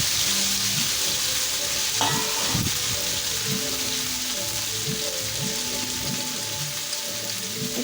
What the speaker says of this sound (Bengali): এখন এই ভাজা মাছের তেলের মধ্যেই আমি কেটে রেখেছিলাম ভেন্ডি আর কিছু আলু, সেটাও আমি এখন ভেজে নেব এই তেলে